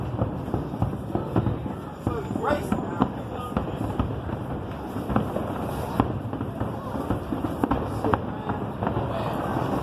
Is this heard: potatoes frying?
no